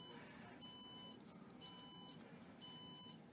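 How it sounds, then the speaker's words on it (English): An electronic beep from a controller at a jeweler's casting bench sounds three times at an even pace, each tone lasting about half a second, over a low background hum. "stop our incessant beeping from our controller."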